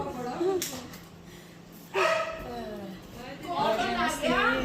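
A dog gives a few short barks and yips close by, mixed in with nearby voices of people talking over it in a home.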